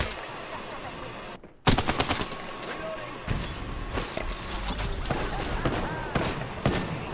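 Rapid bursts of automatic gunfire from the Apex shooter video game crackle through the game's sound mix, starting with a sharp loud burst after a brief drop and followed by repeated scattered shots.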